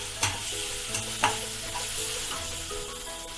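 Ingredients sauté in hot oil for a Mumbai vada pav potato filling, with a soft constant sizzle and a few spatula clinks against the pan nearby, no talking.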